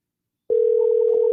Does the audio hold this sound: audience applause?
no